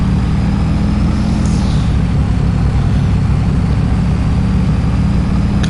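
A loud semi-truck engine in Farming Simulator 22 gives a steady, heavy, close-up drone with a deep rumble that holds constant throughout, with no talk over it.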